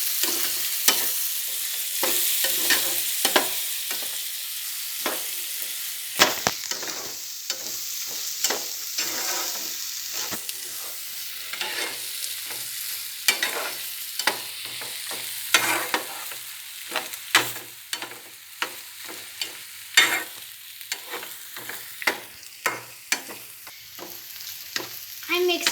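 Mango rice mixture stirred in a pan over low heat, a soft continuous sizzle broken by frequent irregular scraping and clinking strokes of the spoon, close by and with no talk.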